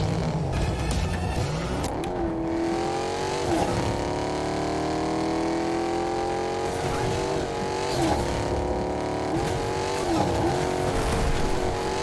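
A car driving in the video game Fortnite, its engine droning steadily with rising and falling pitch sweeps as it accelerates and shifts, loud and continuous throughout with no talk.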